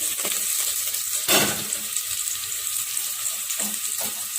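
Onions sizzling and frying in a pan, a steady close hiss with a brief louder burst of stirring partway through, no talking.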